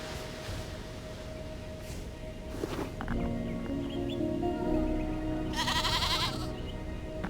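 Small sheep bleating in the Aloft video game, brief cries over steady ambient game music and sound effects, with a louder bleat near the end.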